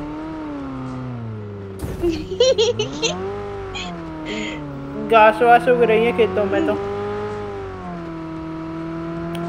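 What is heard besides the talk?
car driving off-road into fields in a video game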